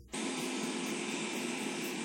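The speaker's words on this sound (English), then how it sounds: "As the plane was maneuvering its way toward the runway, the veterans were honored with a water cannon salute." Airplane taxiing toward the runway, a steady jet-engine roar that starts abruptly and holds at an even, moderately loud level.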